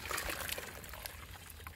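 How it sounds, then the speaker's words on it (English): Boiling water poured over a chicken for plucking, a soft steady trickle and splash at a moderate level, continuous through the short stretch with no voices. "this chicken's plucking real easy, eh? Just a bit of boiling water in there."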